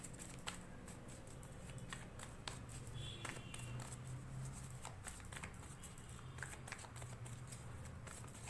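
Tarot cards being shuffled, quiet soft riffling and tapping in irregular bursts, close and faint, with no talk over it.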